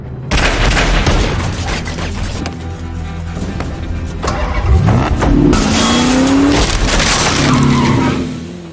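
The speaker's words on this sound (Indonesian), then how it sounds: "Stick, Bobby, dan Deb juga memutuskan untuk kabur menggunakan mobil" Cars race away during a chase in the 2013 action film 2 Guns, with loud engines revving, tires skidding and heavy crunching impacts piling up in a dense, continuous roar and no speech.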